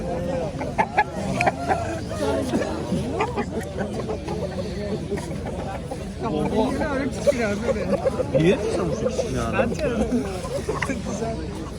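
Roosters and chickens cluck and crow at a busy poultry market in Quva while people bargain and chatter nearby, the birds' calls rising through the crowd babble.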